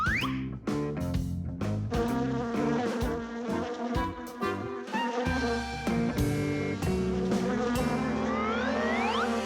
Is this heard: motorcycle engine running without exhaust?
no